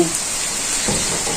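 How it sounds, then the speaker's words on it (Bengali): Rain falls in a village courtyard as a steady, close hiss with soft patter, briefly joined by a faint low murmur midway. "বৃষ্টি আছে যে বৃষ্টি পড়তেছে এখন বৃষ্টি হইতেছে"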